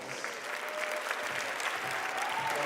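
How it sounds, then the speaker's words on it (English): A crowd at the inauguration of Baltimore's mayor applauds the introduction of U.S. Representative Kwasi Mfume, with dense, steady clapping that fills the whole stretch at an even, sustained level. "Y'all give him a round of applause."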